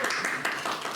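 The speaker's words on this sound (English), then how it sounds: "Everybody give her a round of applause" A small audience at a Christian apologetics talk gives a short, quiet round of applause, a brief patter of hand claps lasting about a second.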